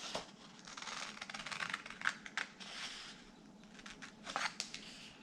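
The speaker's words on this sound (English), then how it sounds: "I'm just going to take my scissors and cut on that line that I pre-drew" Scissors snip through paper in a steady run of crisp, close cuts, with faint rustling between strokes and no voices.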